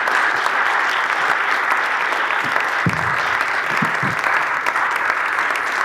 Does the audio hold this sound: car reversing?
no